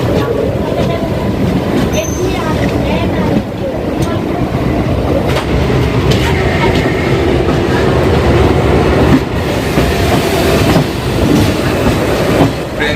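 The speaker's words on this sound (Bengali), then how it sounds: "ট্রেন ছেড়ে দিয়েছে" A passenger train moves along the rails after leaving Puri at night, with steady rumbling and clattering of wheels running continuously throughout, loud and close from inside the carriage, with faint voices in the background.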